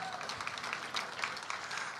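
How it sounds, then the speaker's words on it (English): An audience applauds the female contestants at the preliminaries of the 2021 NAA International Auctioneer Championship, a steady wash of clapping that holds evenly for the whole stretch. "Let's give all of our female contestants a big round of applause."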